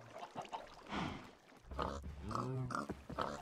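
Pigs in the Minecraft video game grunt and oink in short repeated calls, fairly close and clear, with several overlapping snorts spread across a few seconds and no talk over them.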